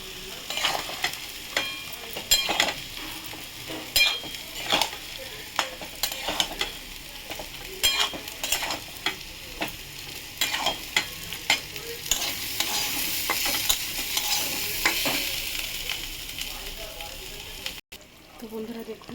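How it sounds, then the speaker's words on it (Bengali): Ground poppy seed paste with potatoes being stirred and fried in a pan: a steady sizzle with repeated scraping spoon strokes at an irregular rhythm, growing louder and hissier toward the end before cutting off abruptly. "আমি এইবারে পোস্ত দানাটা দিয়ে দেবো।"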